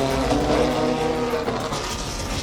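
Formula Delta race cars at Interlagos circuit roar by in a short burst, a dense engine drone with a rising and falling tone heard at moderate distance.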